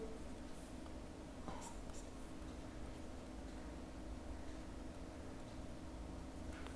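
Soft, faint scratching of writing on a board during a lesson on Indian minerals, low and continuous against a steady background hiss.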